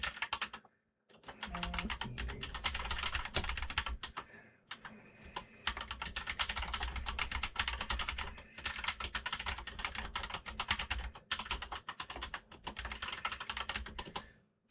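Rapid, close clatter of typing on a computer keyboard, dense bursts of keystrokes broken by brief pauses, alone without talking.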